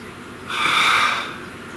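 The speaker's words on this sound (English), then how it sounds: "Please take a nice deep breath." One deep breath drawn in close to the microphone, a soft airy rush that swells for under a second and then fades against a quiet background.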